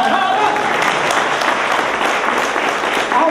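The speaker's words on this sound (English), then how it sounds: "Everybody give a huge round of applause." An improv show audience at the Detroit Improv Festival breaks into loud, sustained applause, dense clapping close and steady, with a few voices cheering underneath.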